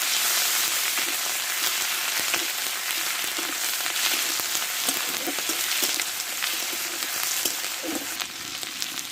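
Onion paste fries in a pan with dried chili and whole cumin, giving a loud, steady sizzle with occasional crackles and stirring scrapes, with no talk.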